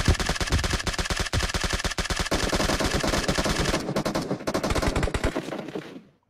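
Rapid automatic gunfire in PUBG Mobile rattles in a steady, relentless stream of loud shots, briefly stuttering near the end before cutting off.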